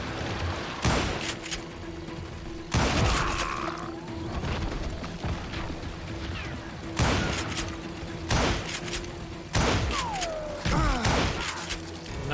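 Rifle shots in the Western game Call of Juarez Gunslinger, four or five loud, widely spaced cracks with echoing tails over steady ambient game sound and occasional clanks.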